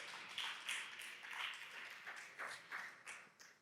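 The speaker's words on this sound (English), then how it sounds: "Let's give them a round of applause." An audience at a book launch event gives a round of applause, a faint, distant spread of many hands clapping in uneven waves.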